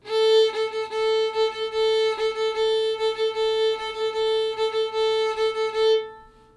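Violin bowing in a quick, continuous shuffle rhythm, with repeated short accented strokes on a sustained double-stop, ending in a brief ring.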